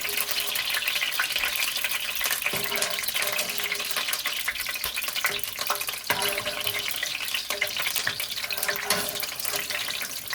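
Garlic frying in olive oil for eggplant parmesan, a steady, close, continuous crackle and sizzle that runs unbroken with faint clinks of a utensil, no talking.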